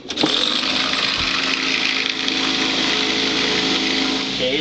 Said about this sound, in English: clean these cases in the case vibrator